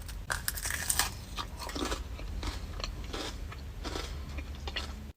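Close, crisp crunching as someone bites into a Cinnamon Toast Crunch crumble cookie, with several quick crackly crunch bursts over about five seconds and no talking.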